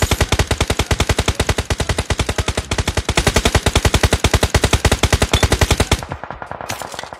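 Rapid automatic gunfire rattles in a shooter video game, a loud unbroken stream of evenly spaced shots for about six seconds before stopping, followed by quieter game sounds.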